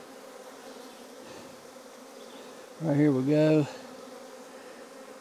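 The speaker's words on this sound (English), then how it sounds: "Good looking bees, brood, some honey." Honey bees hum steadily around an opened hive during an inspection of swarm colonies being re-queened, a soft continuous drone running throughout while a voice speaks briefly partway through.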